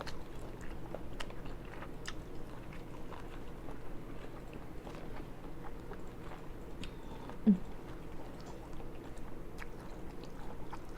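Soft, steady chewing of butter-fried mixed seafood with squid and corn, close and continuous at low level, with one brief sharper bite partway through and no talking.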